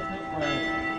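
Church bells ring with a sustained metallic hum from some distance, heard over a steady wash of outdoor background noise near moving water.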